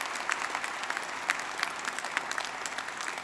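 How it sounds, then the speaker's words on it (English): An audience at a Brighton degree ceremony claps, many hands in a fairly quiet, steady patter with sharper individual claps standing out, lasting a few seconds without speech. "I think we should have a big round of applause for them."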